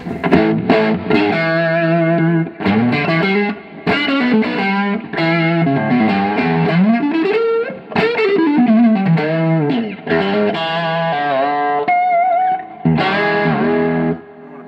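Loud, distorted electric guitar through a tube amplifier playing sustained chords and bending lines with a warm, saturated amp tone, continuous with brief pauses.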